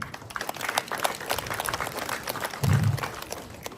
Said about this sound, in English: So, a louder round of applause.